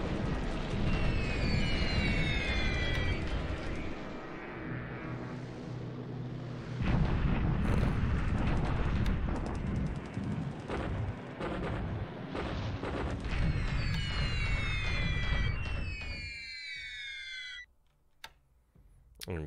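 Heavy cannon fire against B-29 bombers in a World War II combat video game: dense, continuous booming and rattling bursts with whistling shells overhead, loud and close, then breaking off briefly near the end.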